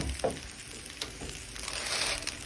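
Bacon sizzles in a pan of fried rice while it is stirred, a steady close frying hiss broken by soft scraping and clattering stir strokes.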